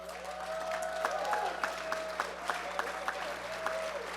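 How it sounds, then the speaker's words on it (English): An audience at a university honors event claps steadily at moderate distance, soft overall with a few sharper individual claps standing out, while faint tonal voices or music hover underneath. "Applause before the story."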